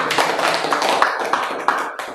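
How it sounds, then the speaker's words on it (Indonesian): An audience at a school talk show claps for an entering guest: a quick, dense burst of hand claps with sharp accents, close and fairly loud, with no voices. "Tepuk tangan untuk Josephine"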